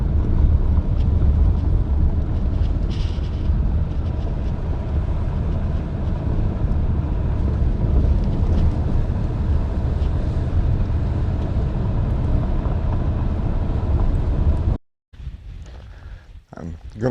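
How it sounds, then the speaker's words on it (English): Strong wind on a hilltop buffets the microphone with loud, continuous low roaring rumble, then drops out briefly near the end before gusting back more faintly. "It's pretty windy up here on top of this hill."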